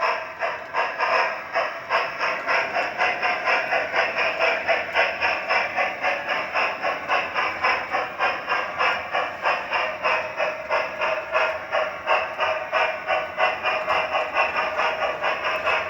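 A G scale model train running along an outdoor garden layout track, a steady rhythmic clatter of wheels over rail joints with a constant mechanical whir, close and continuous with no voices.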